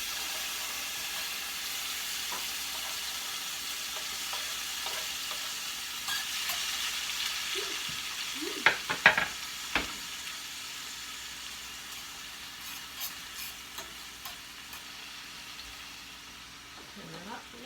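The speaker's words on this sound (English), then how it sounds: "gonna saute them" Vegetables sautéing in a pan of hot oil that was used for frying hot dogs, a faint continuous hiss with occasional clinks and stirring taps, and a voice speaking briefly near the middle.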